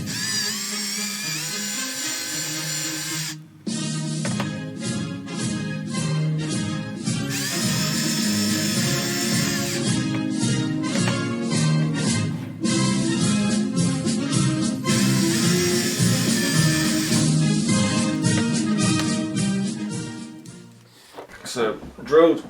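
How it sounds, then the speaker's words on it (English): Power drill with a 4mm bit boring into a plastic HMS Hood model ship, a high steady whirr in bursts that cut out and restart, alternating with quieter handling sounds, loud and close. "I'm using a 4mm drill bit, and I'm just going to drill very carefully"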